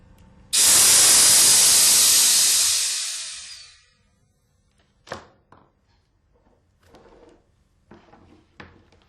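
A loud, sudden hiss of compressed air bursts from an Alfa Laval Unique seat valve, sustained for about three seconds before tapering off, followed by a few faint clicks and handling knocks.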